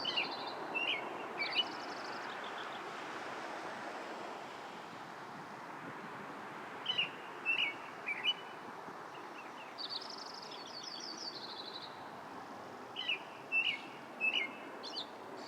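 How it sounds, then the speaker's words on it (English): A Lincoln's sparrow singing near Anchorage, Alaska, its song partly drowned out by a nearby American robin, with short chirpy bursts recurring every few seconds over a faint windy background. "Also a Lincoln sparrow, its song somewhat drowned out by a nearby American robin."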